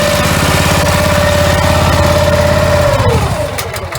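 A Honda petrol engine on a hot-cold steam pressure washer in a van setup runs steadily and loud with a constant mid-pitched drone and whine, then begins winding down near the end as it is switched off.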